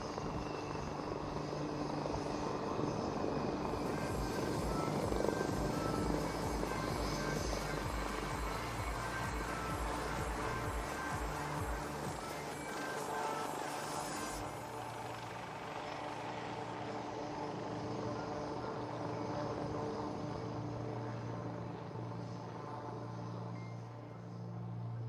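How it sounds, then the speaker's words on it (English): A Sukhoi 30 MKI fighter jet touching down on the runway at the Aero India 2021 air show, a loud, steady jet engine roar that fills the clip and eases slightly partway through, with no talk. "Approaching the runway, all grace and poise,"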